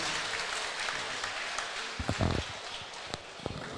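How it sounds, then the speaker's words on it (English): A crowd applauds fighters at a combat sports event: a steady, wash-like roar of distant clapping and cheering fills the arena, with a few closer knocks and thuds on top. "big round of applause for these fighters"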